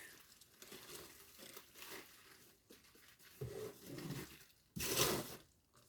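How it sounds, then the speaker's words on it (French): Rustling and crinkling as a taped parcel is handled and torn open, soft and close, with a louder burst of crumpling near the end. "attendez, je l'ouvre"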